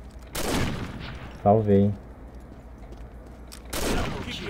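Gunfire bursts in the online shooter Combat Arms, two short volleys at the start and end with a sharp mechanical sound between, while a player speaks briefly.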